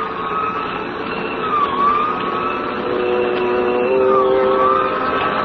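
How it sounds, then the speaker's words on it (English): An emergency siren wails steadily over a rumbling vehicle engine in an old suspense radio drama, holding close and loud for several seconds with no voices. "We both heard the siren then."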